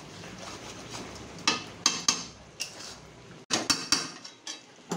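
Quail pieces are stirred in a pot for a tandoori dish, with a utensil knocking and scraping against the metal in about a dozen irregular clanks separated by short quiet gaps, close up and without speech.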